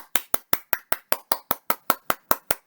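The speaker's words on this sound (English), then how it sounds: "Go ahead, clap with me loudly." Children clap loudly along with a story-time leader, fourteen sharp, evenly spaced claps in a steady rhythm, close and crisp with no talking between them.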